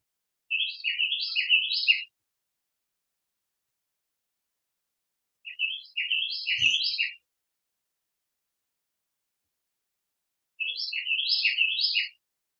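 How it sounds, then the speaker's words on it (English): Birds chirping outdoors beside a house deck: three separate bursts of quick, high-pitched twittering calls a few seconds apart, clear and fairly close, with silence in between and no talking. "so I don't know if you can hear the birds outside"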